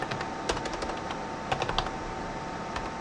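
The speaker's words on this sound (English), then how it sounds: "So from here you type license" Quiet keystrokes on a computer keyboard as a command is typed, with irregular clicks and a few quick bursts against a low background hiss.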